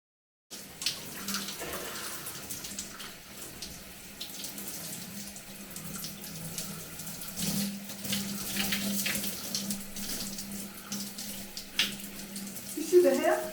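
Shower water runs steadily during a hair wash, a continuous hissing spray with splashes and irregular patters from hands and hair, fairly close.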